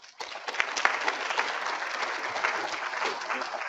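Steady applause from an auditorium audience at a plant breeding symposium welcoming a speaker. Many hands clap in a dense, even patter that starts abruptly and holds for a few seconds.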